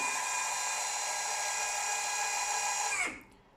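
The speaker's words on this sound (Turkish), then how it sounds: "Sonra ikinci yönde komut veriyorum. Motor çalışmaya başlıyor." Small DC motor driven by an AXI-RM22-VN controller, a high, steady, whining buzz held for about three seconds and then cut off abruptly with a quick wind-down. It is close, with no talking.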